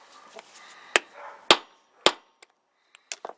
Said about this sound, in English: it's too short, so I'm gonna have to hammer that in